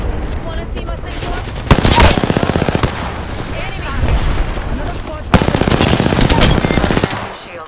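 Rapid automatic gunfire in the Apex Legends video game, two dense bursts of fast repeating shots loud and close, with game effects and a character voice between them.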